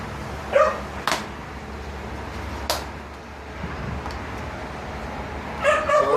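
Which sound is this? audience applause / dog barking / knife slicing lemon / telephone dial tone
dog barking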